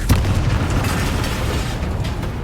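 Confringo fire spell exploding in the Hogwarts Legacy video game on PS4, a loud sudden boom followed by a rumbling, crackling burst that lingers without fading.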